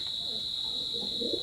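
Soft low cooing from small teddy pigeons, faint at first and growing a little stronger near the end, over a constant high electrical whine.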